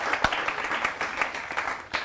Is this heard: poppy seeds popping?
no